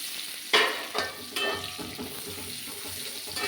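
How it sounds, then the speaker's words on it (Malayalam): Nutmeg stirred into a frying mix for nutmeg pickle, with a soft sizzle and a few distinct scraping strokes and clinks, fairly quiet and close. "നമ്മളിതിലേക്ക് ജാതിക്ക ഇടുവാണ്. നല്ലപോലെ മിക്സ് ചെയ്യണം."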